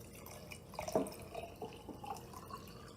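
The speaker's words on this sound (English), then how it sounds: "tea is actually still pretty warm, so if you put it in immediately, that's probably for the best. So I'm going to carefully pour" Warm tea poured into a cup while making bubble tea, a brief close splash and dripping of liquid peaking around the middle, over faint background noise.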